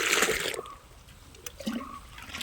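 Liquid jeevamrutha fertilizer is poured onto young areca nut plants: a short, close splashing gush at the start, then quieter intermittent trickles and dribbles.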